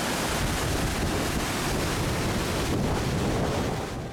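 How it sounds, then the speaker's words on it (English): A fast-flowing river running high on Dartmoor rushes in a loud, dense, continuous roar close by, mixed with wind buffeting the microphone and no voices. "The rivers are quite high at the moment. It is one fast-flowing river."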